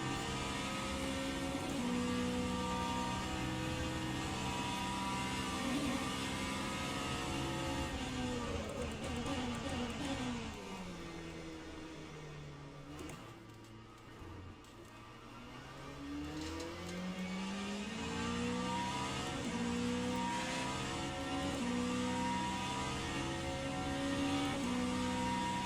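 A race car engine in the rFactor 2 racing game revs loud and continuous, its pitch sweeping up and down through gear changes across the lap, dipping briefly in the middle before climbing again.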